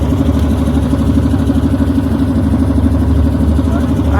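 Boat engine during a river ride past the ghats in Kashi, a loud, steady, close drone with a constant low throb that runs unbroken throughout.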